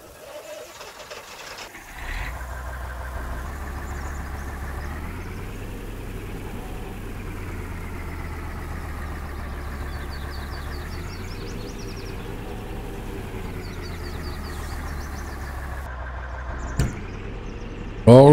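A truck engine runs at a steady low idle for most of the stretch, its deep rumble swelling slightly at times, starting after a quieter opening and ending with a brief clatter.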